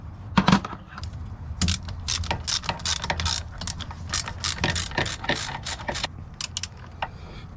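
A ratchet wrench tightens a loose bolt on a turbocharged K20 AWD Honda Civic wagon, giving close, rapid bursts of sharp metallic clicks with short pauses between strokes.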